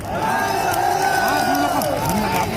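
A rally crowd in Nagpur over farm loan waivers sends up a steady roar of cheering and clapping, loud and continuous, with an amplified voice carrying over it.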